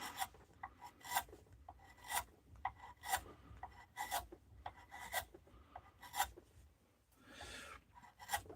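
A wood carving tool rasps as it scoops out a wooden bowl, about eight rough scraping strokes in a fairly regular rhythm, close and fairly quiet, with no talking.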